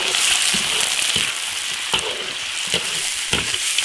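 An old hen's chicken pieces being stir-fried hard in hot oil in an iron wok: a loud, dense crackling sizzle punctuated by repeated spatula scrapes and knocks.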